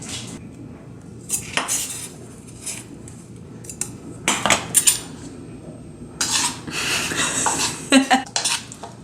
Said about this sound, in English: Do a couple more cuts on there.